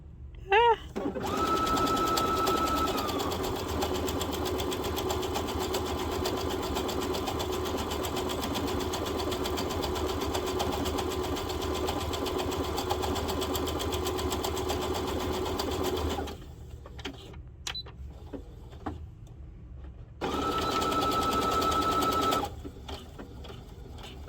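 A Babylock Presto II sewing machine stitches in a fast, steady mechanical whir that runs for about fifteen seconds, pauses while a voice talks briefly, then starts again in a short burst, close and loud.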